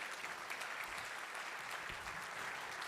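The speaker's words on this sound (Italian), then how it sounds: "vi chiedo veramente un profondo, sentito e grande applauso nel suo ricordo" Steady audience applause at an awards ceremony for a poetry prize, many hands clapping together in a dense, even wash held at moderate volume throughout, with no voices over it.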